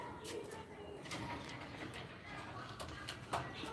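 Pigeons and doves coo among other birds at an outdoor bird market in Izmir, faint and a little distant, over a constant hiss of crowd noise and murmuring voices.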